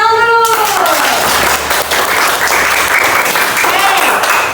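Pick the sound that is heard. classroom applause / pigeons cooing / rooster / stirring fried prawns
classroom applause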